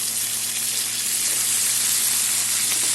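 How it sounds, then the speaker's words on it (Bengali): Malabar spinach stalks hitting a pan of frying garlic and potatoes, giving a steady, close hiss of hot oil that sizzles evenly throughout with no speech. "এখন কেটে ধুয়ে রাখা পুঁইয়ের ডাঁটা দিয়ে দেবো"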